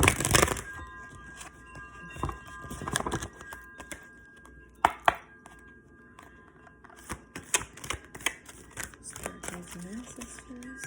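A large deck of cards is shuffled by hand in several riffling, crackling bursts spread across the stretch, with soft talk in between.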